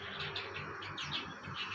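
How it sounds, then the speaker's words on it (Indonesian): Morning birds sing outdoors, a steady chorus of quick overlapping chirps and tweets at moderate distance, fairly soft and continuous, with no voices. "banyak burung-burung ya."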